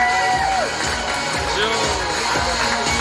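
A crowd at a wedding reception cheers and whoops for a guest being introduced, loud and close, with overlapping shouts and scattered voices filling the whole stretch.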